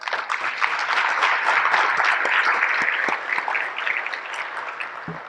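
A crowd at an awards gala breaks into lively applause, the clapping loud and dense at first and then thinning out toward the end.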